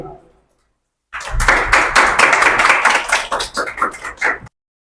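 Applause from an audience welcoming a naat reciter to the stage at a religious gathering, loud, dense clapping that swells after a brief pause and then thins into scattered claps before stopping.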